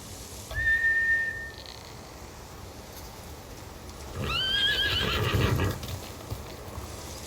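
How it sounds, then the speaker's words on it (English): Samurai horses in the video game Ghost of Tsushima give two shrill whinnies, a brief one early and a longer quavering neigh later, over a low rumble of hooves and background ambience. "Bastards scared off the horses."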